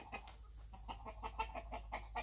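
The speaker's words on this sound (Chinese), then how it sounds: "这个是公鸡还是阉鸡啊？" Farm chickens, a rooster and a capon, cluck in quick repeated bursts while being caught by hand, the agitated calls fairly faint.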